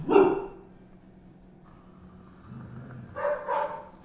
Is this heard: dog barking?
yes